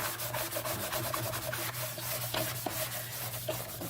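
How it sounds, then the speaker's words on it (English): Cloth rubbing across dried tabletop resin, steady rapid back-and-forth scrubbing strokes, close and moderately loud with a faint steady hum beneath, no talking. "So I'm going to just clean it off real quick."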